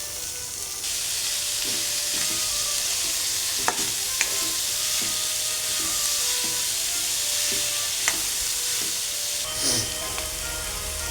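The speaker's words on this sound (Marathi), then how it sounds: "आता या सर्व मसाल्यामध्ये कांदा लालसर होईपर्यंत परतून घ्यायचं आहे" Onion frying in a spice mix with curry leaves in a pan for a Marathi-style breakfast dish, a steady sizzle with occasional clicks of stirring against the pan, close and continuous with no talk.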